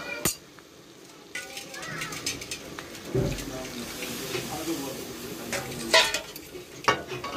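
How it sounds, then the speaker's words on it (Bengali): Water is poured into a pan of bitter gourd curry and stirred, with a splash, scraping clicks and a soft sizzle under a steady background hiss. "এবার এর মধ্যে দিয়ে দেবো অল্প জল।"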